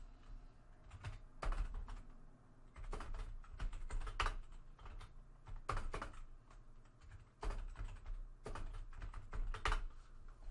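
Typing on a computer keyboard while entering data into Excel, steady clusters of quick keystrokes with brief pauses, faint and close, with no talking.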